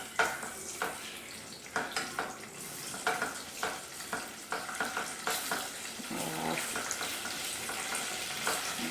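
Masala frying in a pan for mutton paya (goat trotters), steady sizzle punctuated by a regular rhythm of spatula stirs and scrapes about twice a second, no one talking.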